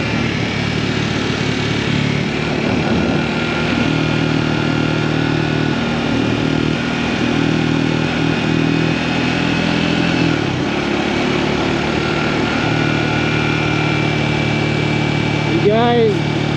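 Steady mid-pitched engine drone of a Triumph Scrambler 400X motorcycle riding through a Utah mountain canyon, continuous and close with wind noise, holding an even level throughout.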